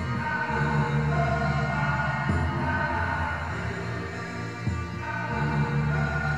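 A looped music sample, stretched and distorted so the instruments sound muffled and underwater, drones on as a dense, continuous smeared tone of sustained pitches with no voices.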